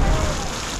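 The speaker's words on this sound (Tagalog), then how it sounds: "Ayun na yung ulan" Rain falls steadily as a dense, loud wash of noise, with a low rumble beneath it.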